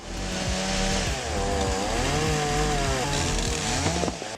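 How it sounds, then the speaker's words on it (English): A Stihl MS661 chainsaw cutting wood: a loud, sustained engine whine with pitch rising and falling as it bites, continuous and close throughout with no talking. "the Style MS661 sets the standard for excellence in chainsaw technology"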